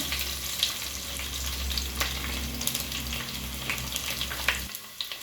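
Crushed garlic and mustard seeds fry in hot oil for a bitter gourd palya, giving a close, continuous sizzle dotted with small pops and spatters. A low hum cuts out near the end, and no one talks.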